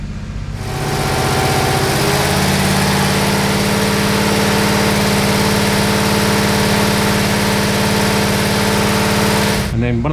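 A high-performance 413 big-block Mopar engine runs loud and steady on a water-brake dyno for about ten seconds, a deep continuous rumble that cuts off abruptly at the end.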